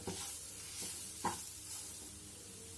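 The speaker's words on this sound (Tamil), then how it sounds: "பாசிப்பருப்பை சேர்த்து நல்லா மிக்ஸ் பண்ணிடலாம்." Moong dal and gram flour are stirred in a frying pan for kachori filling, giving a faint soft sizzle with a few light scraping strokes of the spoon, quiet and close, with no talking.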